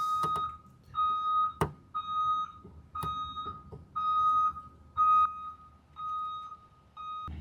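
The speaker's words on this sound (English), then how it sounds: "school bus was backing up, so it was just beeping" A school bus's reversing alarm beeps steadily in evenly spaced high tones, with a few sharp knocks in between and no speech.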